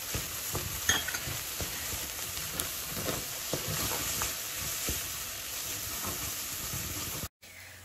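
Cumin and black pepper frying and being stirred in a pan for a Persian lentil stew, a steady close sizzle with scattered spoon scrapes and clicks running throughout, cutting out abruptly near the end.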